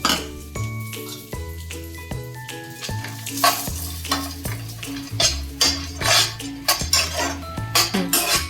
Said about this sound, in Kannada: ಇವಾಗ ಗೋಡಂಬಿನ ತುಪ್ಪದಲ್ಲಿ ಬಿಸಿ ಮಾಡ್ತೀನಿ